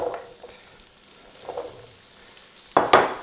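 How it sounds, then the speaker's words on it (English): Carrots browning in olive oil in a skillet: a faint steady sizzle with a short burst at the start, a softer one midway, and a louder crackling flare near the end, with no voices. "we have to brown the carrots. I'm going to add a little more olive oil to the skillet. And in goes the carrots."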